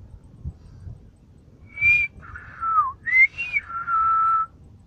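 A sequence of sharp whistled tones in Silbo Gomero whistled speech, rising and falling in short phrases, loud and close, imitating syllables of speech with brief pauses between.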